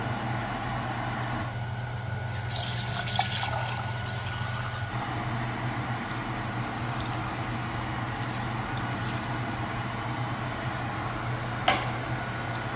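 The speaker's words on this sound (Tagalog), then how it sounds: "lagyan natin ng konting tubig" Water trickles and pours into a pot where a pork head is cooking, a soft steady liquid wash over a constant low hum, with a couple of brief clinks.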